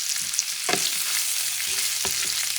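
Shrimp sizzle in a hot pan over medium-high heat, a steady broadband frying hiss with a couple of sharper pops or stirring clicks, close and alone with no talking.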